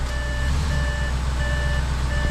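An Audi S8's reverse-gear warning chime beeps in a steady repeating pattern of clear, evenly spaced tones over a low idling engine hum, with no talking.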